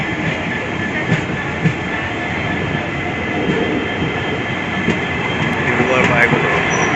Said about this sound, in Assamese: কিমান ট্ৰেইন ৰখি আছে দেখিছে